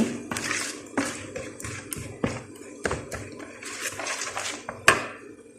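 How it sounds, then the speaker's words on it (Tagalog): Henna powder mixture being stirred in a bowl makes irregular clinks, scrapes and knocks, moderately close and sparse, with a louder clack near the end. "Haluin lang. Haluin ng mabuti."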